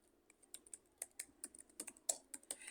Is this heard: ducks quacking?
no